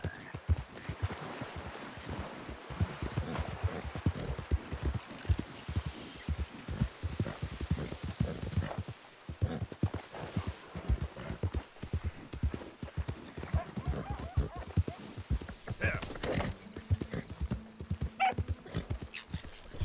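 A horse in the Red Dead Redemption 2 video game gallops with steady rhythmic hoofbeats and neighs now and then, with a voice talking in French over it.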